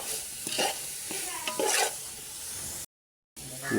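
Chicken curry masala is stirred in a hot pan, a steady sizzle with scraping spoon strokes, close and loud, broken by a short gap of silence.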